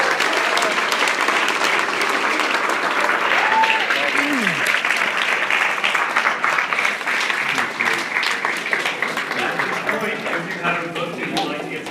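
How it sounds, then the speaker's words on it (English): A crowd at an evening book event with Carly Simon and Sheila Weller applauds steadily, a dense sustained clapping that fades slightly toward the end, with voices and cheers mixed in. "Let's have another round of applause."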